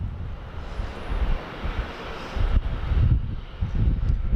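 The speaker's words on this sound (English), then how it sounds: "This private jet looks great in the sun." A private jet at Sydney Airport gives off a steady, moderately loud engine roar mixed with wind buffeting on the microphone, swelling a little toward the end.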